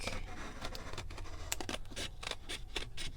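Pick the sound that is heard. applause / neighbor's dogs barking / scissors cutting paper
scissors cutting paper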